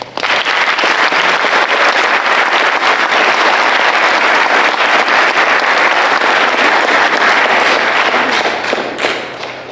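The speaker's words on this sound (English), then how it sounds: "I'd like to give them all a round of applause." A large crowd at a high school Memorial Day ceremony applauds steadily and loudly for about ten seconds, dense clapping that holds strong before easing slightly near the end.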